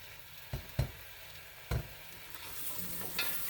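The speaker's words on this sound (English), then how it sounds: "Give this a good mix" Goat curry sizzles in a pot as a spoon stirs it, three or four distinct scraping thumps over a soft, steady frying hiss that rises toward the end.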